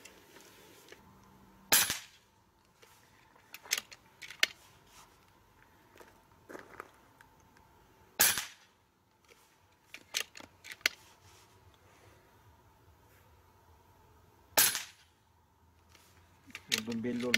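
An FX Boss .30 calibre PCP air rifle fires three sharp, well-spaced shots that crack briefly over a quiet background, with small handling clicks and taps between them.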